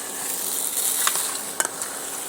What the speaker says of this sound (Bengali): ঢেলে দিয়ে আবারও মটর আর আলুটা আবারও সুন্দর করে কষিয়ে নিতে হবে।